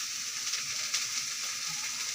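Garlic, shallots and cauliflower sauté in a pan, giving a steady, close hiss of frying with faint stirring scrapes throughout and no talk.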